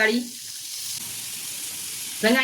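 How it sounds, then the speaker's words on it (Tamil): Three pieces of butter melt around three pieces of paneer in a pan, giving a steady, even sizzling hiss throughout, with a voice speaking briefly at the start and again at the end. "பட்டர் உருகிட்டு இருக்குது, நல்லா உருகணும்"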